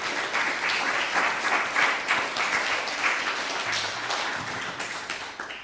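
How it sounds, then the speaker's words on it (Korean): A church congregation at a Sunday service breaks into sustained applause, many hands clapping together in a dense, even roar that holds steady and fades slightly toward the end, with no voices on top. "우리 옆에 있는 분들 박수로 환영하겠습니다."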